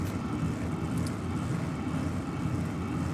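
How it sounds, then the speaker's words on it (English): A drag racing car idles at Sydney Dragway with a lumpy, burnout-style idle, making a steady, loud low rumble that holds evenly throughout without any revving. "This thing sounds like a burnout car. It does have that sort of idle, doesn't it?"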